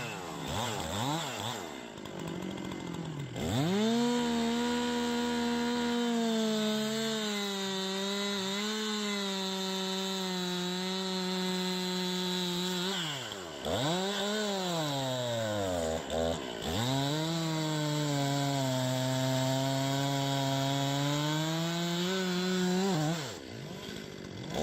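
A chainsaw fells a large tree, its engine revving loud and steady with pitch dips as the bar bites into the wood, continuing for most of the stretch before dropping away near the end.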